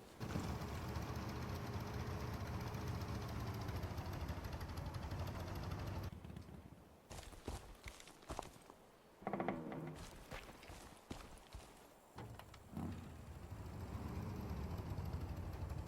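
A vehicle engine runs steadily while driving in Deadside, then drops out into quieter, choppy mechanical sounds and clunks before the engine drone returns toward the end.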